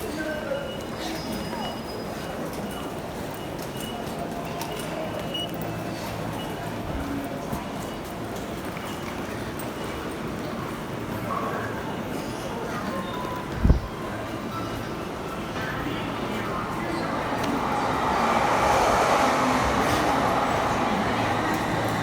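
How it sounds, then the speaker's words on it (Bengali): Crowded railway station during morning office hours, a dense wash of crowd chatter, footsteps and train rumble throughout, with a brief sharp knock midway and the hubbub swelling louder near the end. "সকালবেলা অফিস টাইম, এই সময়টা যখন অনেকটাই স্টেশনে ব্যস্ততা থাকে"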